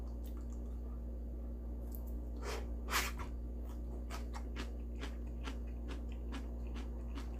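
Blanched soybean sprouts, rinsed in cold water, are bitten and chewed close up, giving a series of crisp, moist crunches over a low background hum without talking.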